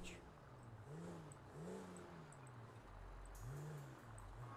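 Car engine in GTA 5, a low steady hum with a few rising revs as the car pulls in to park, running continuously under background sound.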